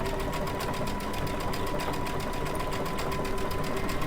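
A Baby Lock Altair sewing machine stitches steadily with its circular sewing attachment, running at reduced speed, a loud, close, even mechanical whir with a rapid regular needle pulse throughout and no pauses.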